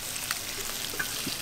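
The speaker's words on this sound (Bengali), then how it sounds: "মশলা মাখানো তেলে ইলিশ মাছগুলো এক ফিট একটু হালকা করে ভেজে নেব" Hilsa fish fries lightly in spiced oil, giving a continuous, fairly quiet hiss with small crackles and a faint clink or two, no voices.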